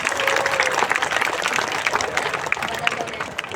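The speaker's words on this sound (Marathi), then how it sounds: "त्यांना प्रत्येकाने टाळी वाजवून त्यांना प्रोत्साहन दिलं पाहिजे" An audience claps steadily for drama performers at a stage play, a close, dense patter of applause with some crowd murmur mixed in.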